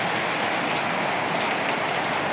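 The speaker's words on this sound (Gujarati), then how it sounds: "જોઈ શકો છો ખૂબ વરસાદ આવી રહ્યો છે" Heavy rain pours down steadily outdoors under a dark sky, with water running off below, a dense, loud, continuous hiss with no break and no voices.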